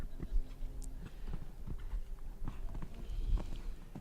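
Hooves of a show jumping horse at a young rider team jumping final of the FEI North American Youth Championships clip-clop in a steady, moderately close rhythm over low arena ambience.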